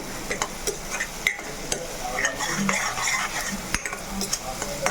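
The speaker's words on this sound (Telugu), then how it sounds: "చక్కగా వేగుతుంది కదా" Spices of turmeric, chili powder and salt frying in a pan as a spoon stirs and scrapes, steady close sizzle broken by sharp clinks of metal on the pan, with no talk.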